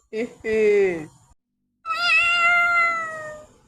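Two loud, drawn-out cat meows close by, a short one followed after a pause by a longer wavering cry.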